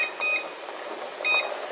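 A kitchen timer beeps twice as it is set beside a pot of boiling rotini, two short high electronic chirps about a second apart over a soft background hiss.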